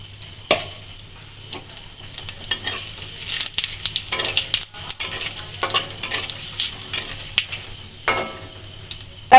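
Cumin seeds crackle and sizzle in hot oil alongside bay leaves, dried chilli and potato, with sharp irregular pops and spits over a steady frying hiss, loud and close with no voices.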